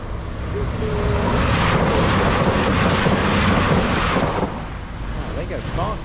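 A train rushes fast along the railway track near a New Forest level crossing at Brockenhurst, a loud, close, continuous roar with rumbling that swells and then eases off after about four seconds.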